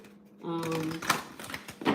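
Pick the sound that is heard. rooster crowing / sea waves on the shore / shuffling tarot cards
shuffling tarot cards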